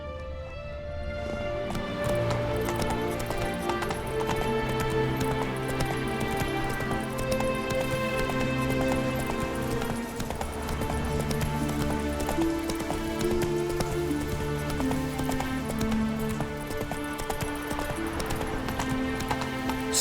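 Roach, the horse in The Witcher 3, gallops with a rapid, steady clip-clop of hooves that runs without a break, heard under a layered game music score.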